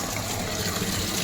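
Water pours steadily into an 18-litre can from a digital filter plant dispenser at a hotel in Talegaon, Maharashtra, a continuous close rushing flow with no talk.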